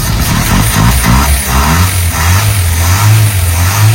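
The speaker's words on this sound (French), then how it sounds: "Lors de mon deuxième essai de mise en route, le moteur ne cale plus" The engine of an abandoned old Renault Estafette van cranks and catches without stalling, then revs up loudly with a rough, rising drone, close by and with no voices.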